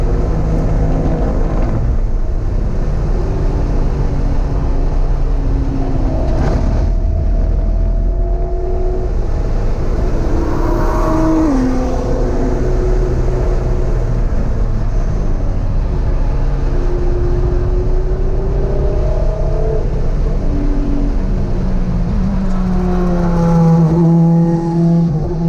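A BMW M3 race car in a time trial competition session is heard from inside, its engine droning loud and continuous, with rising and falling revs through gear changes on the track.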